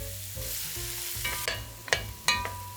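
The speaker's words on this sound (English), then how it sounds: "I'm gonna give that a little stir, and we're gonna let that brown up for about 5 minutes." Carrots, celery and onion sizzle in a few glugs of olive oil, a steady close frying hiss broken by several sharp scrapes and clatters as a utensil stirs the pan, with no talking.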